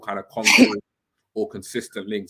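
A single sharp sneeze bursts out between stretches of conversation in a casual football preview chat, loud and close, followed by a brief silence before talk resumes.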